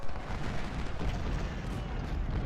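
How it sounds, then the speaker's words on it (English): Artillery fire in the Civil War strategy game Ultimate General: Civil War, a dense continuous rumble of booming cannon blasts and crackling gunfire rolling on without pause, loud and steady throughout. "Getting hit by artillery in the rear is Iverson"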